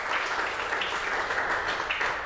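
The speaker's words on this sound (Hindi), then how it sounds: "चलिए इनके लिए जोरदार तालियां हो जाएं" An audience claps loudly and steadily throughout, a dense continuous round of applause with no talking over it.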